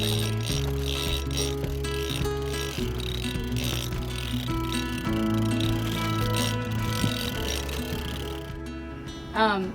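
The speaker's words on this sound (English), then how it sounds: "Keep grinding. Keep reeling." A fishing reel is cranked hard during a swordfish fight aboard a boat, giving a continuous close mechanical ratcheting whir with rhythmic gear clicks for the whole stretch.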